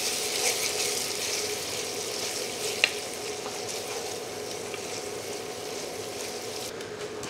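Ginger garlic paste fries with onions over medium heat for a jackfruit dish, giving a steady close sizzle with one sharp clink of a spoon partway through.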